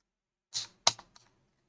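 A few quiet keystrokes on a computer keyboard while typing Python code: a soft tap, a sharper click, then two lighter taps within about a second, with no talking.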